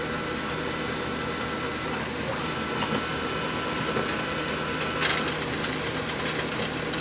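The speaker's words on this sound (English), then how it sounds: "Let me go ahead and photocopy this card." A Brother HL2280DW laser printer runs a copy job, giving a steady, dense mechanical whir with faint clicks and a sharper rattle partway through, moderately loud and continuous throughout.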